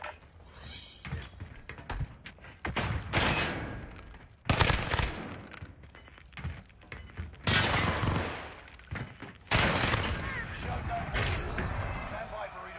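Gunfire in a Call of Duty Warzone gulag fight, a video game: repeated loud bursts of automatic fire and sharp shots come in clusters across the clip, with a voice talking over parts of it.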